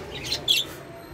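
Pet-shop budgerigars, a group of males and a female, give two brief, faint chirps in quick succession over a quiet room background.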